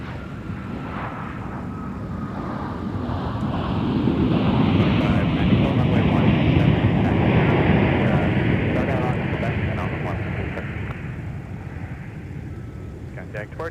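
An airliner takes off at Minneapolis–St. Paul airport, its jet engine roar swelling to a loud peak midway and then slowly fading, with wind buffeting the microphone and voices talking faintly underneath.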